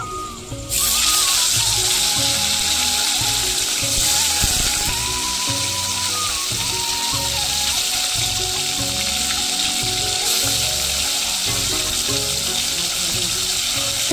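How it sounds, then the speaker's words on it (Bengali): Tilapia fish drop one by one into hot oil in a wok, bursting into a loud, continuous close-up sizzle with a bright hiss that holds steady for the whole stretch, with low clatter and bubbling underneath. "আমি মাছগুলো এক এক করে দিয়ে দেবো, দিয়ে ভালো করে উল্টে পাল্টে ভেজে নেব"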